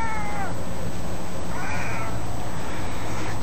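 A tomcat meows twice, drawn-out rising and falling cries close to the microphone over a steady hum of background noise.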